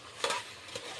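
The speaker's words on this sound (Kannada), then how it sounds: "ಈಗ ಮಿಕ್ಸ್ ಮಾಡ್ಕೊತೀನಿ ರೀ" Masala being mixed in a cooking pan with tomato, onion, coriander and mint, giving a faint sizzle with two short stirring scrapes, one early and one near the end; nobody speaks.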